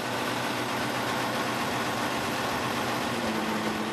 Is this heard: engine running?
yes